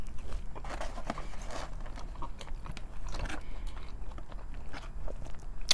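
Close, steady chewing and soft bites of Raising Cane's fries with ranch, a continuous run of moist mouth sounds and faint crunches with no talking.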